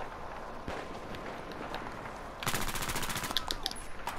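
Rapid gunfire from Battlefield 1 rattles out in a dense burst in the second half, following quieter scattered shots and ambient battlefield noise, fairly close.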